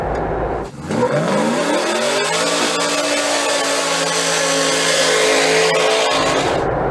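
A modded Jeep JK cruises in sixth gear, its engine a loud, steady drone with rising tones that level off as it settles, plus road and wind roar from inside the cab, with no talking.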